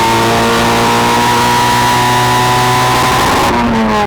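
Loud, sustained engine roar from a 400-horsepower Mazda Miata held at high revs on a launch, a steady droning pitch for several seconds before abruptly cutting off.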